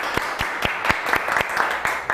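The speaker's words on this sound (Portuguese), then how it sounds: "Uma salva de palmas para Eliane." Audience applause at a book launch event, with sharp rhythmic claps repeating steadily at a fast, even pace, close and moderately loud, more like a few people clapping in unison than a large crowd.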